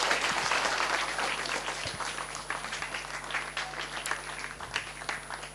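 An audience at an Independence Day special debate event claps steadily, a dense, continuous round of applause that slowly thins toward the end.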